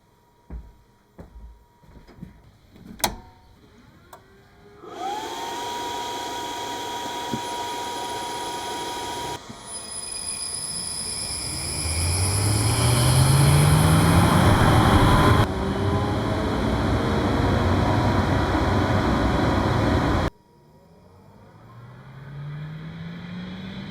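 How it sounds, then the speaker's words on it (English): A bathroom extract fan starts up and runs with a steady whirring drone that rises in pitch and shifts level several times, following some clicks and handling noises, with no talking. "Let me turn the fan on"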